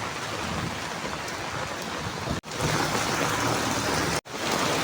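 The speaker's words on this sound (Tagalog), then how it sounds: "Pagkalakas ng ulan." Heavy typhoon rain pours down steadily and loudly, a dense unbroken roar of water on surfaces, interrupted only by two brief dropouts.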